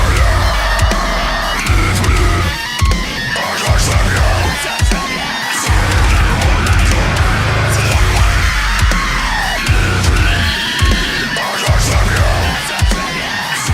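Deathcore track played steadily and loudly throughout: dense distorted guitars, pounding drums and harsh vocals.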